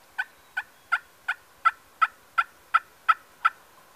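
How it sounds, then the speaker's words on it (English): A wild turkey gobbles from its roost on the opening day of turkey season, a string of ten evenly spaced, clear gobbling calls at a moderate distance with no talk. "Try and get them to maybe gobble on the roost"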